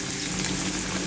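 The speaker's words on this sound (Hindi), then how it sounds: "इसे अच्छे से फ्राई करूँगी मैं प्याज को" Onions and green chillies frying in a pan for upma give a steady, dense sizzle, close and fairly loud, with no talking.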